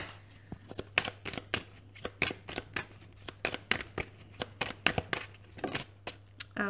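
Tarot cards being shuffled and falling, a quick run of sharp papery riffles and slaps in an uneven rhythm over a faint low hum, close and fairly quiet.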